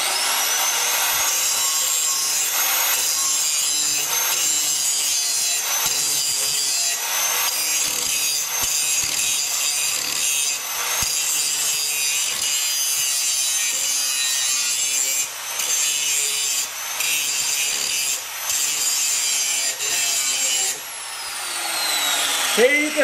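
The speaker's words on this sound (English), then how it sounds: "another way to sharpen a blade would be with one of these 4-inch grinders" A 4-inch angle grinder grinds a wavy mulching lawn mower blade clamped in a vise, a loud continuous high-pitched abrasive whine with brief dips and rises as the disc works along the edge.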